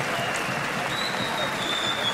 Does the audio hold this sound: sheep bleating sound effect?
no